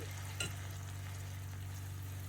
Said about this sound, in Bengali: আমি একটু রসুন বাটা দিয়ে দিচ্ছি